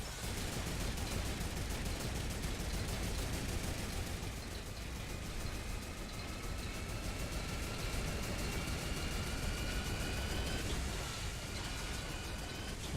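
Rapid, continuous gunfire from a video game shooter in which players fire turrets against an enemy team, a dense unbroken barrage that stays loud and steady throughout with no talk.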